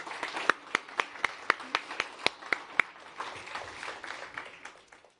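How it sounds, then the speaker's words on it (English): A conference audience at a business summit gives a round of applause, opening with a steady rhythm of distinct loud claps over a thinner spread of clapping that fades out toward the end. "Big round of applause for Rachel and Kate."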